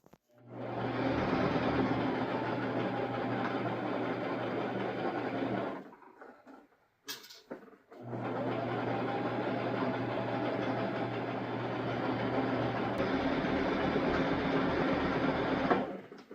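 A Brother sewing machine stitching fabric for a sheath dress: a close, loud, steady mechanical whir that runs about six seconds, stops for a brief pause with a small click, then runs again for roughly eight seconds.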